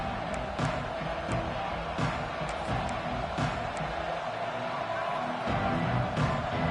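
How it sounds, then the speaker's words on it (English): Crowd noise from a packed football stadium at a Clemson vs LSU game, a steady roaring wash with swells of cheering and scattered shouts, loud and continuous throughout, with a commentator talking over it. "This crowd ready to make its presence known."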